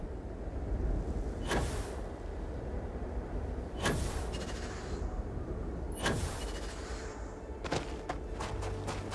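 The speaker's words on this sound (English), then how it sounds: "Just straight, long range gunfire." Long-range gunfire in Starfield cracks as a few sharp, isolated shots spaced seconds apart over a steady rumbling backdrop, with a quicker pair of reports near the end.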